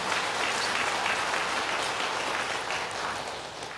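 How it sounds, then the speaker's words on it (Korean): A church congregation applauds during a Sunday service for Parents' Day, sustained even clapping from many hands filling the room, holding steady and easing off only slightly toward the close. "우리 박수로 격려하겠습니다."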